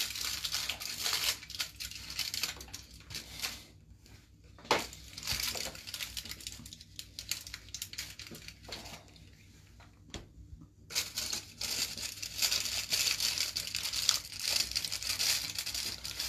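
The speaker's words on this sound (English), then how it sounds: "He heard the crinkling." Tin foil crinkles and crushes close by in a quiet room, a long stretch of crisp rustling and crumpling that comes in bursts with short pauses, no talking.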